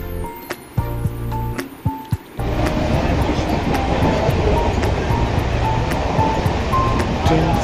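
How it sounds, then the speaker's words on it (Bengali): A train pulls into a station platform on a route toward Azimganj. After a couple of seconds of quieter ambience with faint voices and clicks, a loud, steady rumbling roar sets in and continues to the end. "তো ট্রেন ইতিমধ্যে চলে এসেছে, ট্রেন ধরে আমাকে পুরো আজিমগঞ্জ যেতে হবে।"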